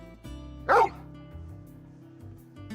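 A dog in Final Fantasy XVI gives one short, sharp bark over a low, steady musical drone, close and clear, with no talk.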